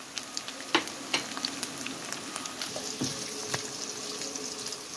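Onions and peppers frying in a pan, a steady soft sizzle with scattered crackles and a few clicks of stirring, fairly quiet and close.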